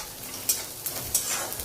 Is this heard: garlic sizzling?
yes